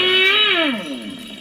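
Electronic sound effect from an Ola S1 Pro electric scooter in Vintage mode, a loud synthetic tone that holds steady and then glides downward over about a second, heard alone without speech.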